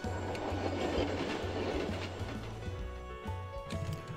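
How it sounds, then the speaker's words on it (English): A subway train in the video game Gunpoint rumbles past with a rhythmic clickety-clack of wheels on rails, fairly quiet and heard alone without talk. "And let's go to the subway."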